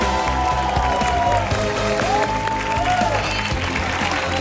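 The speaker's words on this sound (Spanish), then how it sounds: "así que un fuerte aplauso para Rocío." A TV game show studio audience applauds steadily, a dense, continuous clapping that lasts the whole clip with music sounding underneath.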